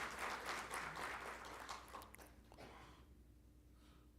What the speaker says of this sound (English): Let's have a big round of applause for the sir.